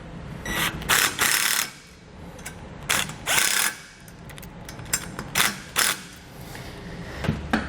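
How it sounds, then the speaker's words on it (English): Self-tapping screws are driven into a base plate to fasten a trailer wiring plug from a Roadmaster 7-to-6-wire kit on a 2017 Chevrolet. Repeated short, close ratcheting bursts come in a halting rhythm, with quieter mechanical clicking between them. "secure the plug to our base plate just using a couple self-tapping screws"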